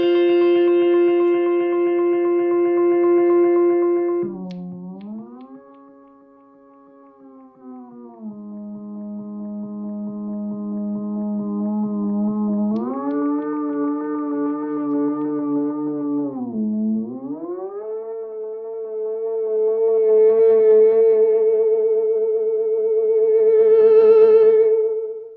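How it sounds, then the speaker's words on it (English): A delay pedal's repeats are pushed into self-oscillation, producing loud sustained harmonic feedback tones that swoop down and up in pitch, with distorted, echoing layers shifting across about 25 seconds and no voices. "You gotta make sure that the repeats knob goes to self-oscillation and beyond so that it sounds like this"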